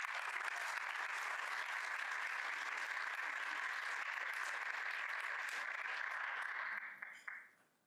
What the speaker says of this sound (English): give yourselves a big round of applause for all that you've been able to achieve